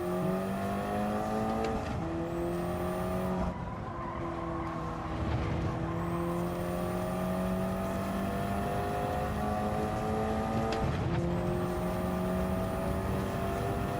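A race car laps a track in a racing video game, its engine whining and rising through the gears with sharp drops at each shift, tyres squealing, heard close and continuous with no talk.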